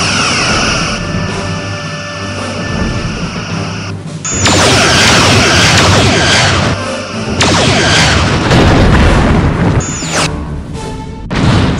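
Torpedoes launch from forward tubes in a space combat video game, heavy booming blasts and crashing bursts arriving in loud waves over a mechanical hum, with whooshing swells between them.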